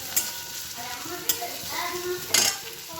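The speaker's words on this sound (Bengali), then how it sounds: "এখানে বসিয়েছি আবার পেঁয়াজ ভাজা" Onions frying in a pan at home ahead of a prawn dish, a steady soft sizzle with a few sharper scrapes and stirring clatters close by, no voices over it.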